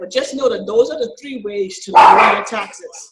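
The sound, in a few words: dog barking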